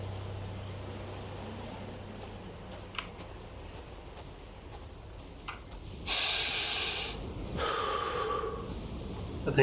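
Cerberus, the giant three-headed underworld hound in the video game Hades, breathing deeply: two long, soft, hissing breaths near the end, faint, with scattered keyboard-like clicks before them.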